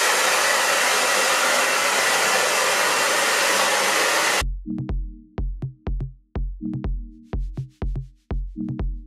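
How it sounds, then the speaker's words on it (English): A handheld hair dryer roars loudly and continuously up close while drying hair, then switches to a pulsing, choppy blowing with repeated on-off bursts and a low hum for the rest of the time. "So first of all, I just kind of dry it roughly."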